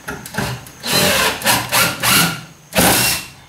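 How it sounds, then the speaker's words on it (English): A power drill drives a screw at an angle into a wooden lap, several close loud bursts of whirring and grinding with short pauses between. "drilling it at an angle directly into the lap to anchor it in"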